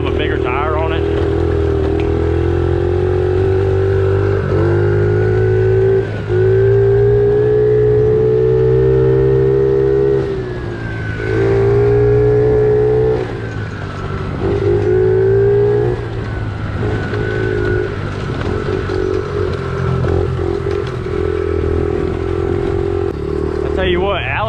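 A pit bike on a pine needle trail revs and accelerates repeatedly, its buzzing engine loud and close with rising and falling pitch and short pauses between pulls. Voices talk over it at times.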